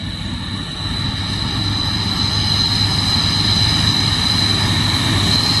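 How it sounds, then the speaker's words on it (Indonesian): A Mitsubishi Fuso Vector FM truck labours uphill on a road in Bogor, its engine a steady, loud, droning rumble with a thin high whine that builds slightly and holds. No one speaks. "Kita lihat ada yang lagi nanjak nih. Ternyata Fuso Vector FM."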